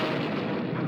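Cartoon cannon blast from a weapon fired at a giant robot in an animated Transformers episode, a sustained loud rumbling boom filling the whole moment with no speech over it.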